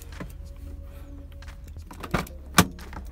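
A Nissan 350Z car door unlatches with a sharp click and a soft thud, among faint mechanical clicks and rustling.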